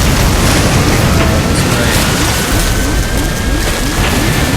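A plane explodes and crashes in the survival video game Stranded Deep, a loud, continuous roar of dense rumbling noise sustained throughout with no clear pauses.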